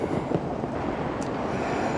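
A continuous low rumble of a tram rolling by nearby on a Melbourne street, with faint rattling and a brief high squeal partway through.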